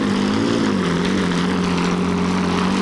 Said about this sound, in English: A single Rolls-Royce Meteor engine from a Centurion tank is his power source.